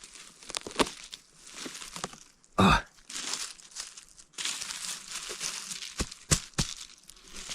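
Close, crisp crunching and crackling as a firm wild mushroom is broken and handled, with several sharp snaps against rustling.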